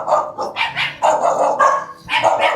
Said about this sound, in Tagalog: Ang dami lang alagang aso.